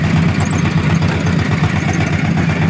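Homemade 4x4 tractor with a GAZ-53 gearbox plowing in third low gear: a steady, loud, low engine drone with rhythmic chugging throughout, close by and with no talk.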